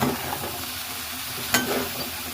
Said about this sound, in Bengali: এবার হাই ফ্লেমে এগুলোকে সব ভালো করে ভেজে নেব